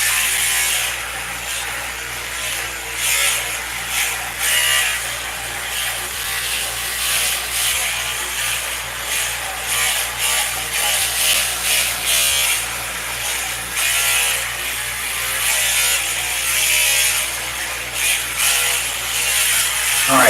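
An electric shaver or trimmer buzzes steadily and close at the bathroom sink while shaving a beard, a constant motor drone with shifting rasp as it moves over the hair, under occasional talk.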